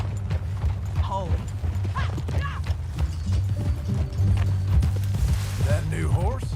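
Horse hooves clip-clop in the Red Dead Redemption 2 video game, a steady rhythmic thudding under game music and a rumbling bed, with voices talking over it.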